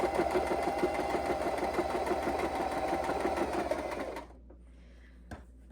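A sewing machine stitches around fabric corners with a steady, loud, rapid mechanical whir that runs unbroken for about four seconds and then stops abruptly, followed by near silence and one small click.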